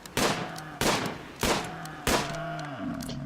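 Four sharp gunshots from a gun in the video game RimWorld, fired at a steady, even pace about two-thirds of a second apart, each loud and crisp with a short ringing tail.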